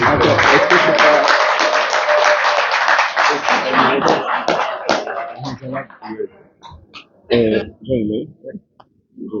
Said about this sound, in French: Je vous demande d'applaudir le docteur Moukedou